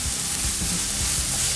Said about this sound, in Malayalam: ഇതെല്ലാം കൂടെ നല്ല രീതിയിലൊന്ന് വഴറ്റിയെടുക്കണം.